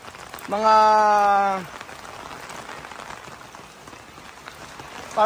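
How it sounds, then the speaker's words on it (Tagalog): Steady heavy rain on a bahay kubo hisses and patters throughout, with a tonal, whistle-like sound briefly rising above it near the start. "Ang lakas po ng ulan mga amigo, grabe."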